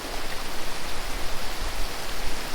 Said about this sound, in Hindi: अभी क्योंकि थोड़ी थोड़ी बूंदाबांदी हो रही है तो बारिश हो रही है